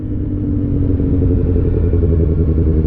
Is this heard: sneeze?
no